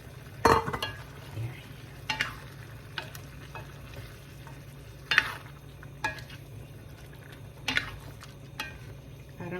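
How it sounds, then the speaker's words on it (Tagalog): Potatoes and carrots stirred into chicken afritada in a pan, a steady soft sizzle under repeated scraping knocks of a spoon against the cookware, close and sparse, with no talking. "Lalagay na din po natin itong ating patatas at saka carrot."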